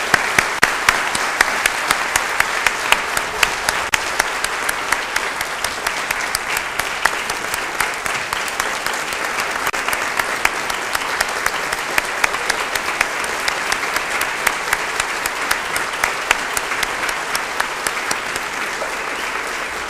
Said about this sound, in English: can we have one round of applause for all of the inductees today?